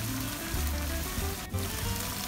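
Sambal petai with dried prawns stir-fries in a wok, giving a steady, close sizzle and crackle of hot oil with low scraping turns of the spatula throughout.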